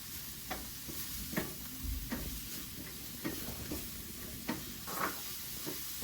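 Mushrooms fry in a steel pan with a steady background sizzle, broken by occasional soft stirring scrapes and taps, heard alone at low level.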